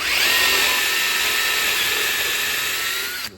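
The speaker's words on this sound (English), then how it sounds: "use the pineapple bit." A power drill fitted with a pineapple step bit bevels the end of a steel brake line tube for a Toyota race truck, one steady high whine held close and loud for about three seconds before stopping abruptly.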